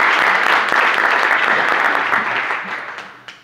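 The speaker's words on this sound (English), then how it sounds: "Let's give her a round of applause." An audience at a school district gathering applauds for Dr. McGee, a loud, dense burst of clapping that stays full for a couple of seconds and then tapers away with a last few scattered claps.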